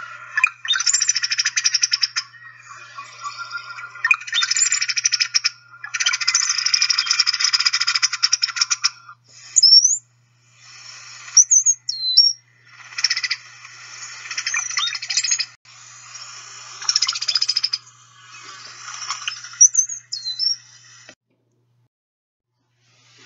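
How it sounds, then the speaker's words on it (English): Songbird chatter calls and songs from cardinalids, blackbirds or finches: a series of dense, harsh, buzzy chatter bursts with rising whistled notes between them, close and clear against a quiet background, ending in silence. "often males will sing and females will do these chatter calls"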